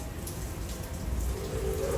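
Rain falls steadily at Magic Kingdom theme park, a dense, even patter of drops on nearby surfaces that stays at one level throughout without a break.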